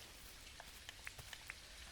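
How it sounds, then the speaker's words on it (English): Rain falls in a video game as a faint steady patter on a surface, with scattered sharper drop ticks standing out from the quiet hiss. "Oh, it's raining."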